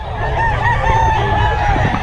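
A rooster crows loudly and close, a sustained strained call over a dense background of other fowl clucking and honking.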